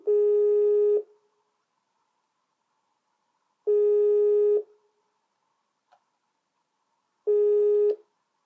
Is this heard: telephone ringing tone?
yes